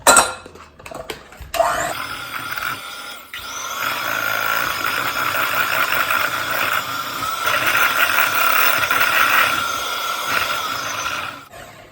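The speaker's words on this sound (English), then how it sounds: "I'm just going to add all the 250 grams of mascarpone cheese, and you can just swirl it up with your mixer." An electric mixer swirls mascarpone cheese in a bowl, whirring up after a couple of clattery starts, then running as a steady close buzz that cuts off at the end.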